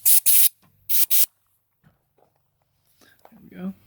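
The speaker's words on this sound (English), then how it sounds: "Spray that out here quick." Aerosol spray blasted into the crusty fuse box of an old abandoned fishing boat, two pairs of short loud hissing bursts close to the microphone, followed by quiet muttering.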